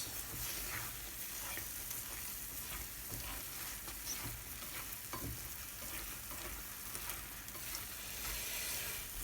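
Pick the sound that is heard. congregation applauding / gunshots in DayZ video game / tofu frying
tofu frying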